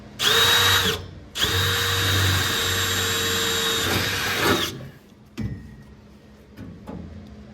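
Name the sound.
electric drill drilling holes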